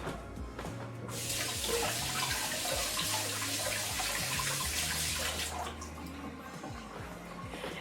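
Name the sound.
running water wetting a hand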